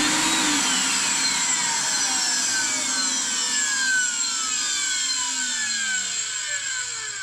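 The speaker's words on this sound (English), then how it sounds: "if I flip this switch here now, the vacuum cleaner motor should turn on." A household vacuum cleaner motor, plugged into mains power, whirs steadily with a high whine whose pitch glides as it spins up, loud and unbroken for several seconds with no talking.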